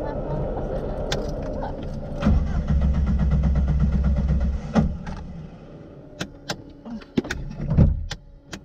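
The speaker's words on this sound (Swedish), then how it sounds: "Min bil startar inte." A Volvo 240 with a dead fuel pump cranks without starting, the starter churning loudly for a couple of seconds before cutting out, followed by clicks and clunks inside the car while people talk.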